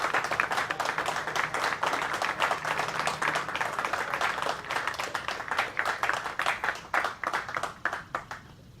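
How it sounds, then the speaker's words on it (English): A crowd at a Marine Corps graduation ceremony applauds graduating Marines and sailors: dense, sustained clapping from many hands, thinning into fewer separate claps near the end. "please join me in a round of applause for these Marines and sailors"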